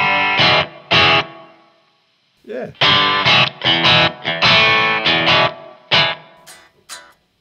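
Bursts of harsh, buzzy electric guitar through a ring modulator pedal with the clean signal mixed back in, a metallic, distorted tone, played in short phrases with brief pauses between them.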